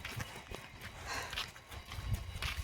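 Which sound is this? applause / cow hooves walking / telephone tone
cow hooves walking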